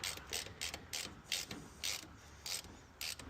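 A ratchet wrench tightens a hose fitting during a turbo LSX 427 Chevelle engine build, giving repeated close, crisp clicking bursts in an uneven rhythm with short pauses between strokes.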